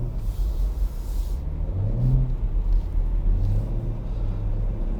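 A 2020 BMW Z4 M40i sliding on a snowy winter road, its engine a steady low rumble that rises and falls as the driver revs through the drift, heard from inside the car with no talking.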